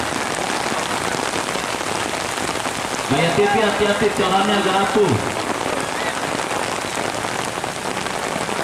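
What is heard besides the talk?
heavy rain during a football match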